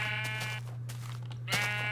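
A sheep in the Minecraft video game bleats twice, each a nasal, wavering cry, over a constant low electronic hum.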